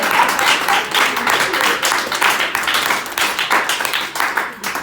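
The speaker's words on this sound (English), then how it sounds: "Yeah, applaud that." A comedy club audience at the Dolphin Lounge in Yonkers claps in a steady, dense burst of applause, close and lively, with no talk over it.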